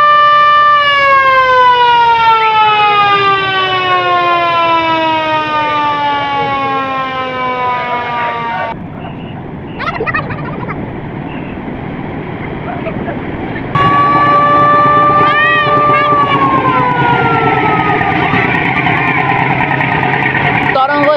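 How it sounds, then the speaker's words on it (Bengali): A Tarango 7 passenger launch sounds its horn as it leaves Nazirpur launch ghat, a loud close blaring blast held several seconds, a short break, then a second long blast. "লঞ্চটি ব্যাগার দিল।"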